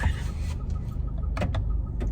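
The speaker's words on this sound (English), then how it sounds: "sorry if you can hear the mystery noise that my car makes." A car's unidentified mystery noise inside the cabin, a steady motorized whir like a power window running, with a couple of faint clicks toward the end; no talking.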